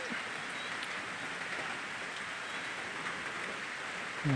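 Steady rain falling in the Isan countryside of rural northeast Thailand, an even, continuous hiss of drops with no pauses and no voices, soft and close throughout.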